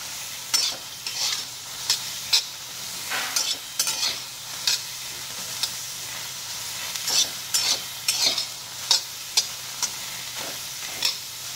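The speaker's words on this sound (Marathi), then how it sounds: "एक अर्धा मिनिट हे व्यवस्थित भाजून घेऊया आपण" Black ghevda beans dry roasting in a pan, stirred with a spatula in a steady series of short scraping strokes over a soft constant background, close up with no talking.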